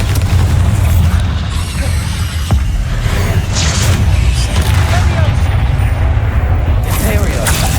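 A Bombarda spell explosion in the game Hogwarts Legacy, with dense booming blasts and crackling combat noise packed into a continuous loud roar, very close.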